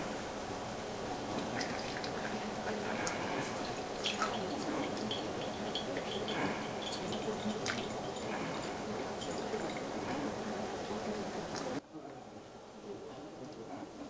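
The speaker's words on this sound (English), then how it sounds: "50 grams center pour, 50 grams outer pour, and then 50 grams center pour," Water trickles and drips through coffee grounds in a pour-over dripper in a slow, steady stream, then stops sharply near the end. Nobody speaks over it.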